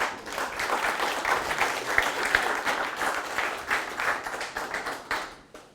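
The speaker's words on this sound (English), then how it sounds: "Big round of applause for Michael Hutzenblatt." An evening software meetup audience claps for a speaker, a dense and fairly close round of applause that keeps up steadily and tapers off at the end.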